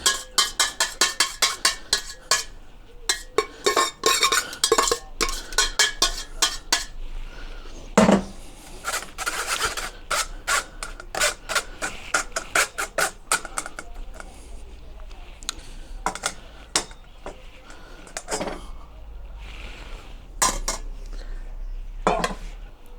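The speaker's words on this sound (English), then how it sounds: "now we just need to filter the sauce" Kitchen clatter of metal utensils and a strainer against a pot as bone marrow bordelaise sauce is filtered, with scraping and tapping throughout the clip and a low background hum.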